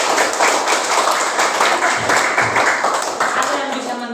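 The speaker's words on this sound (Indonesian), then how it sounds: "mari kita berikan tepuk tangan yang meriah kepada Yohan dulu." A classroom of students claps for a classmate, a dense, lively burst of hand clapping with voices mixed in underneath.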